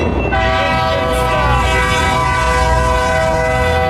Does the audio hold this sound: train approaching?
yes